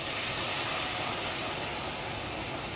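A cup of hot water poured into a pan of caramel sauce over raised heat sends up a loud, steady hiss of steam and sizzle that fills the whole stretch without pause, with no voices.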